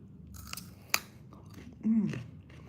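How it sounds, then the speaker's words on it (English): Someone bites into crunchy fresh fruit bought at a local market, giving a sharp crisp snap followed by a short burst of close chewing over a quiet background. "Much more crunchy, this one."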